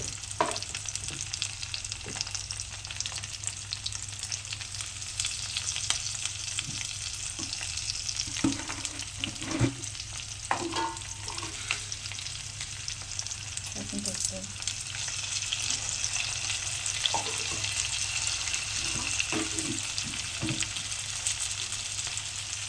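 Food cooking in a pan gives a steady close sizzle throughout, with scattered clicks and scrapes of stirring and no talk.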